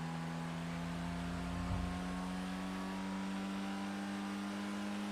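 Car engine driving in GTA 5: a steady, faint engine hum with a constant tonal drone and a brief swell partway through, no voices.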